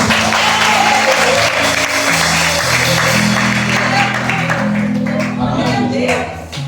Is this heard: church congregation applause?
yes